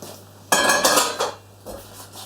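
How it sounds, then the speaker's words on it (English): Drained potato chunks dropped into a bowl with a sudden clattering clink, a couple of further knocks and rattles, then a softer scrape, close and alone. "drain the potatoes or chips, whatever you want to call them. Okay, put them in the bowl."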